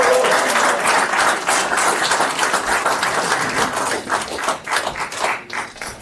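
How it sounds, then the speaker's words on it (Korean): Sustained audience applause at a Korean Democratic Party candidates' joint declaration event on relocating Seoul Air Base, dense steady clapping from a crowd that thins slightly and grows patchier toward the end. "네, 그럼 다시 한번 박수 부탁드리겠습니다."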